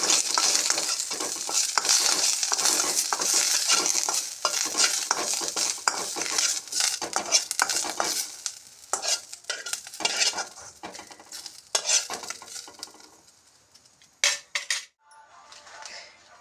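Asafoetida and curry leaves fry in hot oil while a utensil scrapes and stirs the pan in quick rhythmic strokes, a close sizzling that thins out toward the end with a few clinks.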